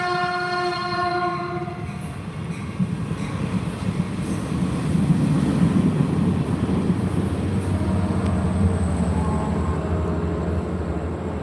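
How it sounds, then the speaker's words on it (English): A train passes close by, loud and sustained, opening with a long multi-tone horn blast before a heavy rumble of wheels and cars rolling on for several seconds. "Hold on, another train."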